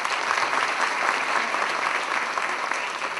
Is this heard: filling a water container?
no